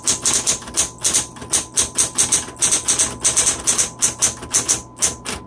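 A 1970s Smith Corona Electra 210 electric typewriter typing steadily, with loud, close, evenly spaced key strikes in a fast, continuous rhythm and no talking.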